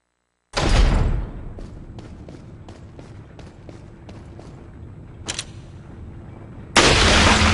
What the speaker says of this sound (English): I'm going to be using my rifle on these guys to make easy headshots with.